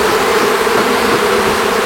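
Bees swarming around an opened beehive: a dense, loud, continuous buzzing hum filling the whole moment, close up with no pauses.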